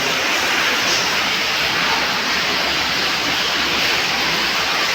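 Water gushes from a horizontal borewell into a 100-foot-deep well, a loud, unbroken roar like a waterfall, heard alone without voices.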